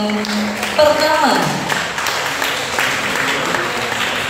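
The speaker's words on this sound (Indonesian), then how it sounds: "Boleh berikan tepuk tangannya teman-teman untuk pemotongan pertama." Audience applause at a tumpeng cutting ceremony marking the start of filming for a TV series, a steady broadband clapping wash lasting several seconds, with a brief tonal sweep near the start and voices mixed in.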